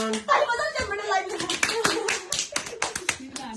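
Several people clap their hands at a medal presentation, with quick, uneven claps mixed into overlapping talk, including a voice, for a few seconds.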